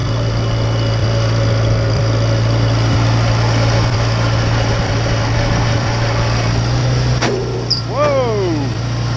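A 1953 Farmall Cub tractor engine chugs along steadily while being driven, a low loud idle-like throb throughout, with a voice briefly heard near the end.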